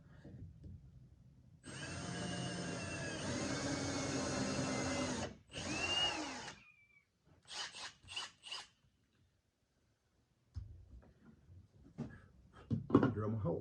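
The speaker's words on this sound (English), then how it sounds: "Drill my hole" A hole drilled into a front door, a loud close whirring drill run of several seconds, a short pause, then another brief burst, followed by scattered knocks and some talk near the end.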